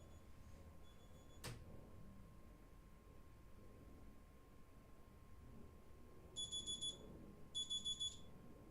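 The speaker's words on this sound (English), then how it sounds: "It's my phone ringing." A mobile phone rings during a live forex trading session, two short bursts of electronic ringtone tones about a second apart near the end, heard faintly over quiet room noise after a single sharp click.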